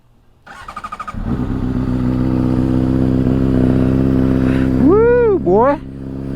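A 2007 Honda CBR600RR with a flash tune cold-starts up close: a short stuttering crank catches into a loud, rumbling idle, followed by two sharp revs that rise and fall.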